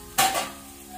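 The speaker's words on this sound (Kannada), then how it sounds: "ಸ್ವಲ್ಪ ಅನಿಯನ್ ಫ್ರೈ ಮಾಡ್ಕೊಳ್ಳೋಣ ಮೊದಲಿಗೆ" A spatula strikes a pan once with a sharp clatter as chopped onion, garlic and green chilli start frying in oil. The impact fades into a brief, quiet sizzle.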